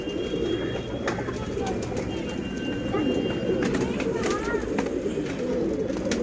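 Pigeons coo continuously in a breeding loft in Mumbai, a dense, close layer of low throaty cooing with a few higher chirps over it, while someone talks in the background.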